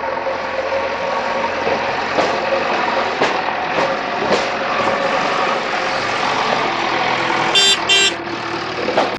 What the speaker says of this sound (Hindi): तो पहाड़ों पे चढ़ रहा है जेसीबी